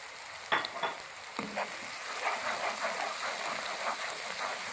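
Cumin powder sizzling in hot oil for a squash and chana dal curry, a soft steady fry with a few sharp clinks of a utensil against the pot early on.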